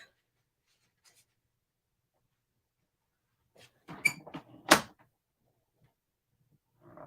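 Paper cutting on cardstock for a handmade pop-up card: mostly quiet, then a short scrape and a sharp snip-like slice close by, with faint rustles afterward.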